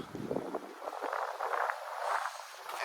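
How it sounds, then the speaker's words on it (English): Wind blows outdoors beside a 2023 Buick Envision, buffeting the microphone in soft, uneven gusts that rise and fall at a low level, with no voices. "is windy out here today."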